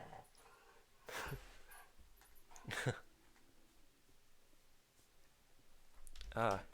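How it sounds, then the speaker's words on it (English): Several dogs, some whining and yipping, make short bursts of noise around a home where a livestream is running, with quiet gaps between the outbursts and a louder cry near the end. "you've missed noisy dogs"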